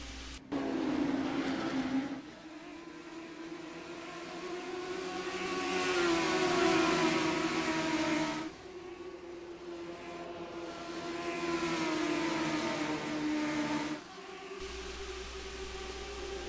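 Race cars finish a 30-lap race at Oswego, engines droning and surging in long waves as they pass, loud and sustained with no talk.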